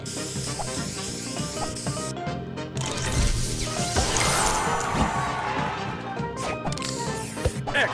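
In a Jungle Jam score-rally mobile puzzle game, a spray power-up bursts into a long, loud hissing gush layered with crashing, clattering effects and busy game music.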